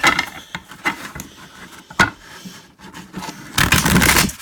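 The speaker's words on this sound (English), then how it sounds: "I'll just shuffle a couple times" Tarot and oracle cards are shuffled by hand in quick bursts of papery riffling and soft scraping, close and fairly loud, with short gaps between handfuls and a fuller flurry at the end.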